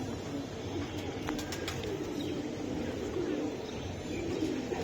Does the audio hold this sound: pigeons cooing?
yes